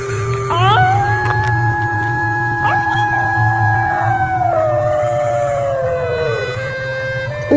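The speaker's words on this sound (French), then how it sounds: "il entend les loups hurler près du chemin" Wolves howl near a path, long rising and falling wails overlapping as several voices sustain and bend their pitch, close and prominent over a low background hum.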